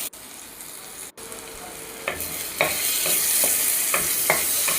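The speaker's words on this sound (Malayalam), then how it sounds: "ഇനി കുറച്ച് നേരം ഇതൊന്ന് വഴറ്റി കൊടുക്കാം" Chopped ripe tomato sautéing in a pan for Kerala-style fish curry, a steady bright sizzle with repeated scrapes and stirring knocks of a spatula, close and clear with no talking.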